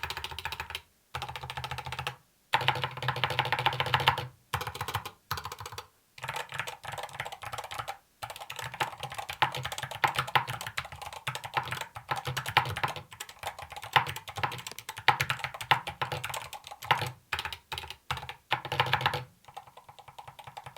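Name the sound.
typing on Lamzu Atlantis Pro and Endgame Gear keyboards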